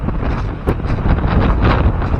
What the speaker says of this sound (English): So yes, it's quite a strong wind.